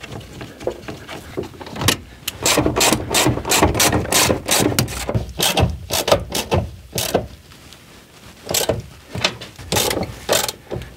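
Quick bursts of ratchet clicking as a part is tightened inside the engine bay of a Ford Mustang, repeated in uneven runs with short pauses, close and fairly loud with no talking.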